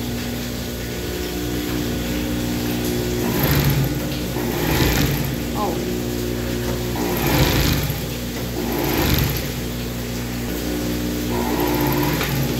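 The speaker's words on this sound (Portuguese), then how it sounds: "a gente vai passar a costurinha em uma alcinha" Sewing machine stitching narrow fabric straps for a child's dress, a steady mechanical whir with repeated bursts of stitching running under a person talking throughout.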